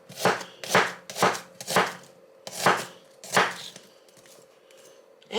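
Knife chopping an onion on a board, about seven crisp evenly spaced cuts at close range followed by a quieter pause with faint scraping.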